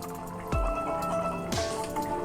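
Chicken pulao is gently stirred in a pot, giving soft wet squishing and dripping sounds, two distinct slurpy movements close by over a kitchen hum.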